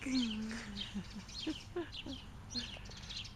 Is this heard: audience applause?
no